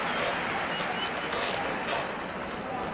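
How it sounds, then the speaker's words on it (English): A gymnastics arena crowd at the 1991 World Championships claps and cheers, a dense, continuous roar of applause filling the hall. "The crowd loves it."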